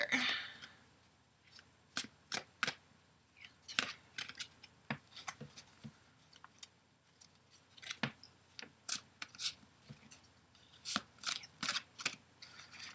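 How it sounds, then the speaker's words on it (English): Soft, quiet tarot card shuffling: a run of crisp riffles and flicks, repeated in uneven bursts, close by with no talking. "I'm going to go ahead and shuffle, and then I'll lay out the cards"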